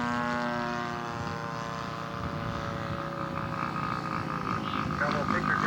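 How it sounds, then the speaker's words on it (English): A Waco scale model aircraft approaches to land at a scale aircraft show, its engine a steady droning hum with a slowly shifting pitch that stays fairly loud throughout, with voices faintly in the background. "And the Waco is coming in."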